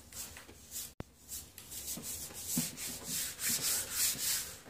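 A hand rubs over car roof-side paint coated with surface deposits, giving a soft, rhythmic dry rasping in repeated strokes that grow slightly louder, with one sharp click near the start and no speech.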